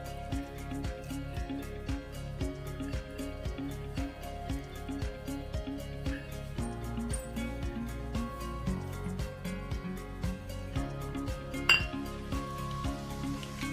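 A spoon stirs and clinks steadily in a dish, working a crushed garlic paste mixture together in a home kitchen, with a quick repeating rhythm of small metallic taps throughout.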